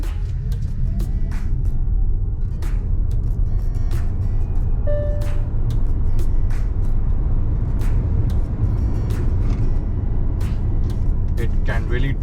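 A Hyundai Ioniq 5 electric car accelerating from 0 to 100 gives a steady, loud rumble of road and wind noise with a brief faint electric whine, heard continuously from inside the cabin.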